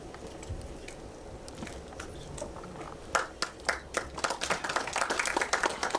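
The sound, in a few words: audience applause welcoming the guest at a song launch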